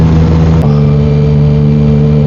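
A Yamaha MT-09 motorcycle engine hums loud and close, with a steady, droning idle that shifts slightly in pitch after a brief blip, and no talk.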